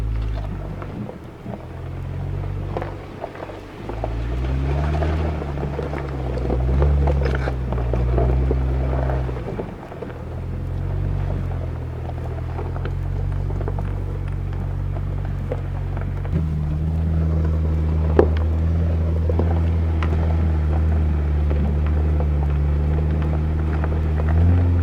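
A vehicle drives a rough, bouldery mountain road toward Ouray in October, a steady low engine rumble with shifting drone and wind buffeting on the microphone, continuous throughout, no speech.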